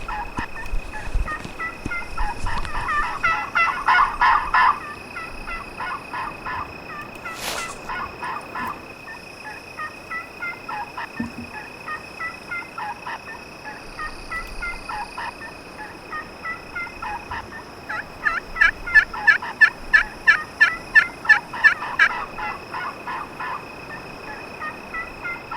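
Wild turkey toms gobbling in spring woods during a hunt, repeated rattling gobbles at mid distance, a loud close burst of rapid calls near the end, with faint yelping and background bird calls throughout.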